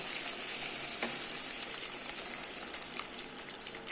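Meat and winter squash fry in a pan with a steady close sizzle and small crackles throughout, with no voices.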